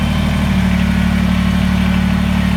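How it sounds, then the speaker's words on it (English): A Kubota BX23S compact tractor rumbles at a steady, loud, even engine drone while backing up, with no voices over it. "When you want to go backwards, you push on this heel pedal, that makes the tractor go backwards"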